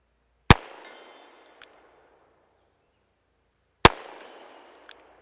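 A Henry Big Boy .357 revolver loaded with softer .38 rounds fires two sharp, loud shots about three seconds apart, each followed by a fading echo and a faint metallic clang of a steel target plate.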